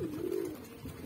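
Pigeons kept for flying, a red Patiala and a black among them, give a soft sustained coo close by, one low droning call running through the second with no talk over it.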